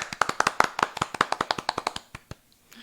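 A room full of podcast listeners claps for a charity donor, a quick run of sharp, close handclaps that gradually thins out into a few final scattered claps.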